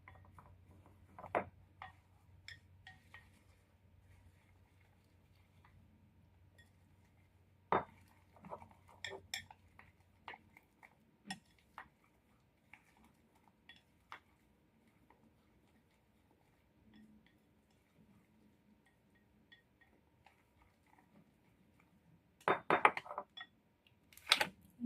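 Banana roll ingredients with oats being mixed in a bowl: sparse, scattered clinks and taps of utensil against dish in a quiet room, ending with a brief cluster of louder rattling knocks.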